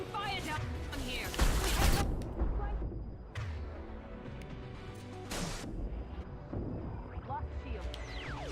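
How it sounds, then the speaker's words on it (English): Gunfire and explosive impacts in the sci-fi shooter Mass Effect 2, loud bursts of shots and blasts at intervals over a dense battle din, with game noise running throughout. "We're taking fire down here"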